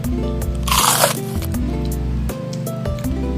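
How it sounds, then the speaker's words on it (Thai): Crunchy sour dried plum snack being bitten and chewed, a loud crunch burst near the mouth over steady background music, no talk. "มากินอันนี้กันบ้างดีกว่านะคะ ที่เขาเขียนในซองมันจะเป็น พลัมนะคะ"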